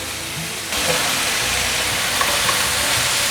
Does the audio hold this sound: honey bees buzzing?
no